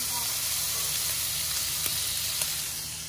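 Chicken pieces hit a hot pan of onions and sizzle in a steady, close, broadband hiss that holds for about three seconds, with a couple of faint clicks from the pan.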